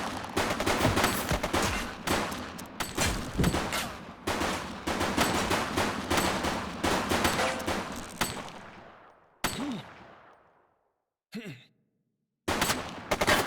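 Bursts of police-game gunfire in The Precinct, rapid sharp shots in dense volleys that fill most of the stretch, then a fading tail, a short gap and a final burst; no talk over it.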